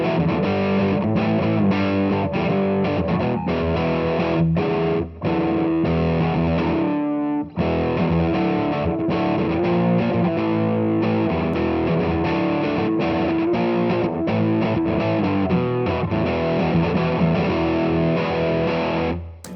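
Heavily overdriven electric guitar played through a Line 6 Flextone II amp, dense distorted chords ringing continuously with a couple of brief gaps, loud and close.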